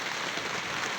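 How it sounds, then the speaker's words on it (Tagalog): Rain driven by wind, pouring steadily as evening falls, a dense even hiss of falling water with no breaks or voices for about a second. "May kasamang hangin yung ulan."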